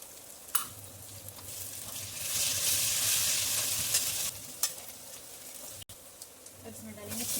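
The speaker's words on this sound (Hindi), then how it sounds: "थोड़ा थोड़ा सा फ्राई कर लेंगे लहसुन को। अब इसमें डालेंगे हरी मिर्ची" Garlic and green chillies frying and being stirred in a pan, a steady close sizzle that swells louder midway, with a few sharp clinks of a spoon against the pan and a voice speaking over it.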